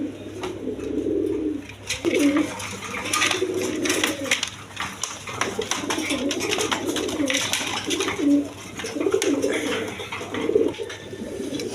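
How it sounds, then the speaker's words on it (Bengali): A pair of high-flying Giribaz pigeons at a breeding farm coo in repeated soft, throaty rolls, close by and continuous over a low background hum. "এক পেয়ার হাই ফিলাইং গিরিবাস কবুতর আছে, দেখেন কোয়ালিটি সম্পন্ন কবুতর"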